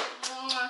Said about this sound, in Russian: Хлопать надо!